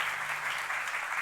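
Congregation applauding in a church, a brief continuous burst of clapping from many hands, fairly close and even.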